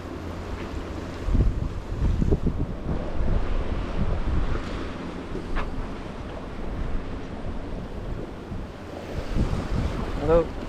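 A sailboat running down Grand Traverse Bay under jib, with steady wind buffeting and waves splashing against the hull, the water bursts rising and falling over a continuous rushing background.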